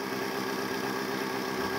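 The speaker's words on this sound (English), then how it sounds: "I purposely got it idling a little high" A motorized bicycle's small engine idles a little high, a steady, even buzzing drone that fills the whole moment at close range with no talking.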